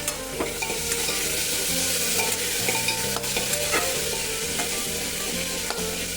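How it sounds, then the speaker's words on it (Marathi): Bitter gourd fries in a hot pan, a loud, steady sizzle with occasional stirring clicks and scrapes throughout, no voices. "इथं कारलं बघा चांगलं भाजत आले"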